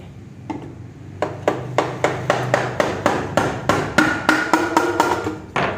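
A rubber mallet pounds on a rusted part of a Honda Click 125i scooter in a rapid series of about a dozen dull, close blows at a steady rhythm.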